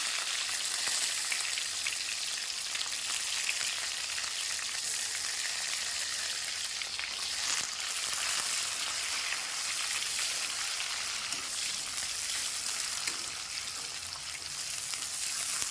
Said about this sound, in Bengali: ফার্স্টে আমি দিয়ে দিলাম পেঁয়াজ